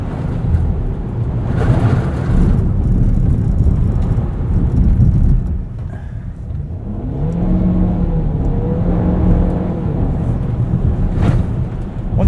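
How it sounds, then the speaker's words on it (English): A 2023 Cadillac XT4 Premium Luxury AWD accelerates hard from inside the cabin. Engine drone and road roar hold steady, dip briefly, then a rising engine tone climbs as the revs build. "Once it sees some power, the all-wheel drive system does put a lot of acceleration down to all 4 tires"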